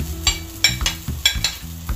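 Chopped onion and garlic sautéing in hot oil in a pan, a close sizzle broken by repeated scraping strokes of a spatula at a quick, uneven rhythm.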